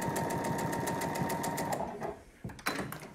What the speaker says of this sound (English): I'm going to sew a half inch seam the rest of the way to the very end of the fabric.